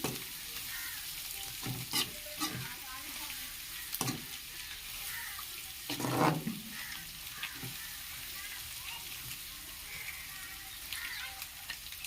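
An egg frying in a pan set on high heat, a steady sizzle and crackle running throughout with a few louder stirring scrapes and pops, close and alone.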